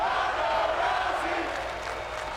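A capacity crowd roars inside a packed high school gym, a dense, loud, sustained wall of cheering and shouting that eases slightly toward the end.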